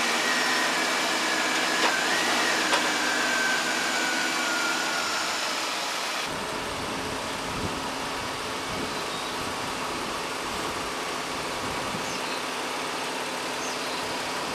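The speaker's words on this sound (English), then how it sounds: "Let's start the vehicle." A vehicle engine starts and settles into a steady idle while the car sits ready for a trailer to be hooked up, giving a constant broadband hum and rumble with a shift in tone midway and no speech.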